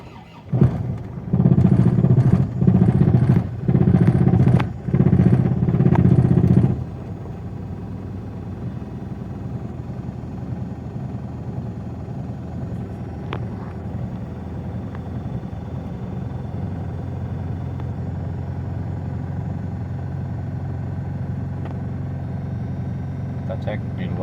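An Isuzu Panther Kapsul engine, just after an oil change, starts with a loud, choppy burst of pulsing engine noise lasting several seconds. It then settles into a steady, lower idle that continues evenly to the end.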